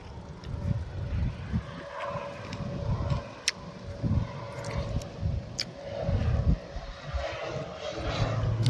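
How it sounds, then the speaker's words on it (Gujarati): A fixed-wing airplane drones steadily overhead while flying above grape vineyards for wine in Israel, its engine hum filling the scene with a low, continuous rumble that swells and eases slightly. "પ્લેન જાય"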